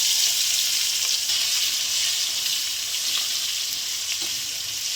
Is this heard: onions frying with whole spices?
yes